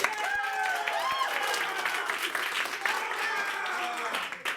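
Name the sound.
audience applause at an improv show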